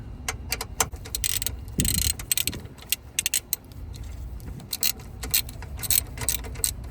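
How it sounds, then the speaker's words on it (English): A hand ratchet tightens the 12V battery hold-down on a Tesla Model Y, producing quick, close clicking bursts with brief pauses and light metallic rattles, with no talking. "You can start tightening her up with your ratchet."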